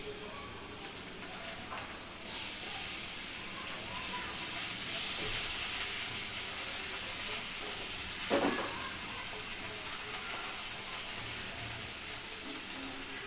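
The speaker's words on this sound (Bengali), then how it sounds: "মাছটা ভেজে নেব।" Fish frying in a pan gives a steady, close sizzle and hiss that carries on for several seconds with a brief louder spatter partway through, and no one speaks.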